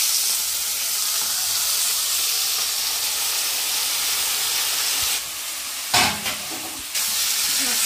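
Prawns and tomatoes sizzling in a pan, a steady close hiss of frying with a brief scraping stir and clatter near the end.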